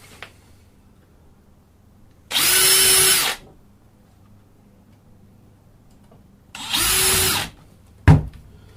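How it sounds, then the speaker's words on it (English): A power drill whirs twice in short bursts a few seconds apart, close and loud, pre-drilling nail holes in wooden beehive frames, followed by a sharp knock. "Should pre-drill the nails."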